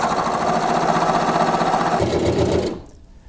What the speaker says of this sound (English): I'll go forward a few stitches, stop, reverse, and then continue sewing to the end of my seam.